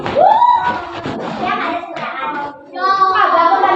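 Children in a classroom clap for a student, a short burst of hands nearby mixed with excited young voices talking and calling over it.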